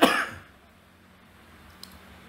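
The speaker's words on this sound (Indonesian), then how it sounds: "Mohon izin batuk sedikit." One short, loud cough bursts out at the start during an online webinar, then fades into quiet room tone with a faint click afterward.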